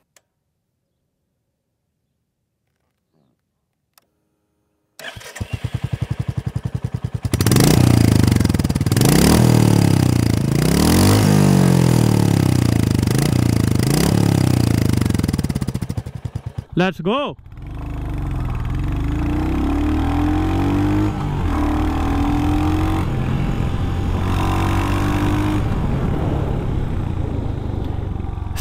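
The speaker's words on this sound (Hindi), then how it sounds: "आपको इसका एग्जॉस्ट नोट सुनाता हूँ" A 2025 Royal Enfield Hunter 350 motorcycle engine starts and revs repeatedly, its exhaust rising and falling loudly, then settles into a steady rumble; a voice speaks briefly.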